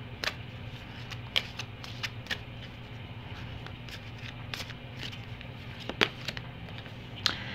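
Angel oracle cards are shuffled and drawn close by, with soft repeated riffling and sharp flicks and snaps over a low steady background hum.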